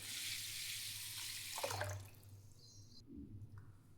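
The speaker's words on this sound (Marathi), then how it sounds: "भरपूर असं पाणी टाकायचंय." Water pours steadily onto rice that has been washed for idli, a close, soft rushing splash that tapers off and ends with a few drips and small knocks.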